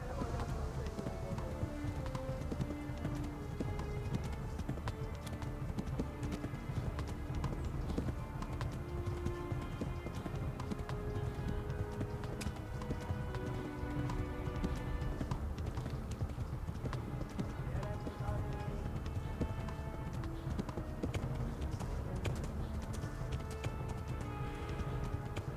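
Steady galloping horse hoofbeats from the video game Kingdom Come: Deliverance, a rapid clip-clop running continuously beneath dense music and sound effects, with no break for the whole stretch.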